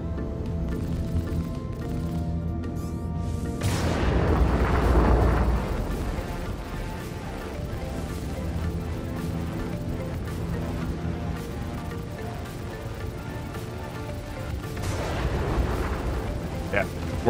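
Ship combat in Star Citizen aboard a Cutlass: gunfire and missile explosions roll out in a dense, continuous barrage, with heavier booming blasts swelling near the start and again toward the end.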